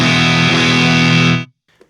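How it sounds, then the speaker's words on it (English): Bridge pickup of an 80s Japanese Strat driven through a Dr. Z Remedy amp at high gain, a thick sustained distorted chord ringing loud and close for about a second and a half before cutting off to near silence. "Again, that's the bridge position on this guitar."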